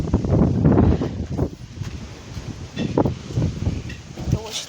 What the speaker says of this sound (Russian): Это очень сильный ветер.